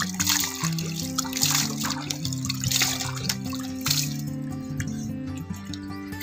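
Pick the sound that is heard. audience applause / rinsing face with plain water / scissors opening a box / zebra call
rinsing face with plain water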